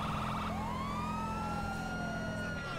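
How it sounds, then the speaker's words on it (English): A wailing ambulance siren from the video game GTA 5, rising and falling in loud sweeping tones over a steady engine drone, continuous throughout with no speech. "Pull to the right, this is the ambulance."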